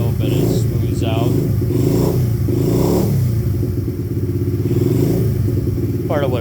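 A 2014 SSR 70 pit bike engine idles close by with a loud, pulsing, slightly uneven putter that stays steady throughout.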